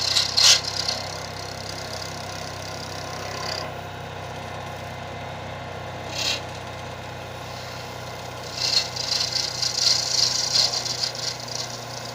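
A gouge on a wood lathe cuts a honey bee pen blank, giving short bursts of close, hissing shaving over the lathe motor's steady low hum, with one longer stretch of cutting near the end.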